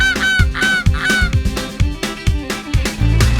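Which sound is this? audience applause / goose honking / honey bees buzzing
goose honking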